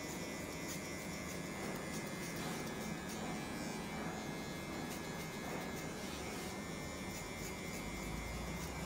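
An electric hair clipper buzzes steadily and close by throughout a graded fade haircut, a continuous even hum with no pauses and no talk over it.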